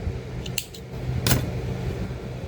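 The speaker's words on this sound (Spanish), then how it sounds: "cerramos y cortamos el hilo" Two short, crisp metallic snips from scissors cutting crochet thread, close and distinct against a quiet room background with no speech.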